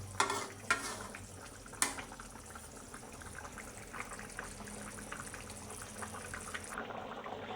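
Fish and vegetables cooking in a pan in a home kitchen, stirred with a utensil: a few sharp scrapes and knocks at the start over a soft, continuous bubbling sizzle that carries on quietly to the end.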